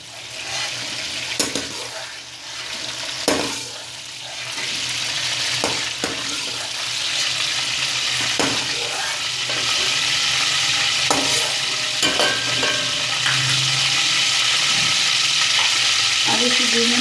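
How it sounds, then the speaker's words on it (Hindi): Masala fries and is stirred in hot ghee left over from frying potatoes for a potato curry, a steady close sizzle with repeated scraping stirs and clinks of the spoon against the pan. "इसी घी में मसाला ऐड करेंगे।"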